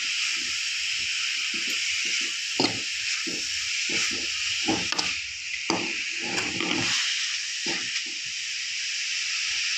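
Beetroot being stirred in a cooking pan, a steady sizzling hiss throughout with repeated soft scraping and clacking strokes of the spoon against the pan, close and moderately loud.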